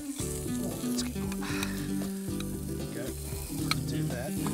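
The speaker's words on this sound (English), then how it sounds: "Just like a little barbie. Sizzle." Food sears on a hot grill plate like a small barbecue, giving a constant loud sizzle and crackle. Music plays underneath throughout.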